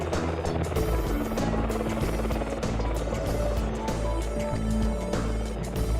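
An AgustaWestland AW101 (EH101) helicopter flies steadily and loudly close by, its rotor and engine producing a continuous thrumming roar with a throbbing low hum.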